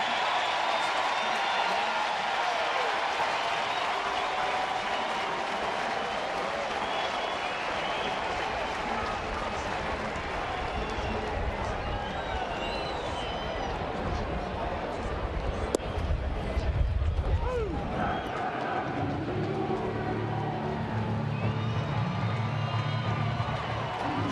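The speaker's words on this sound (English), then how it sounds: "They're still standing and cheering that pinch hit grand slam." Baseball stadium crowd at a Reds home game against the Rays, standing and cheering a pinch-hit grand slam; sustained loud applause and cheering fill the scene, with a broadcaster's voice talking over it.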